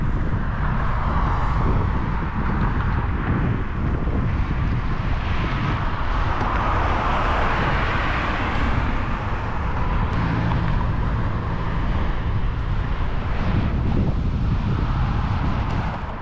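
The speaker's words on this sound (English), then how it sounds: "You'll be able to see the cars behind me just absolutely speeding" Cars speed past in traffic on a city road, heard as a continuous loud rush of engine and tire noise mixed with heavy wind buffeting on a moving bicycle.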